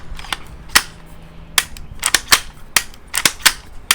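The bolt action of a CZ600 Alpha rifle being worked, giving a series of sharp, close metallic clicks and clacks in an irregular rhythm, with no talking.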